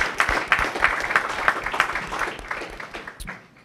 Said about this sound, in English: Y'all give another hand clap.